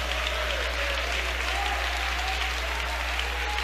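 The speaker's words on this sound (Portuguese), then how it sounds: "Pode louvar a Deus com palmas" A church congregation claps steadily in praise, dense continuous applause filling the hall with a low hum underneath and faint voices mixed in.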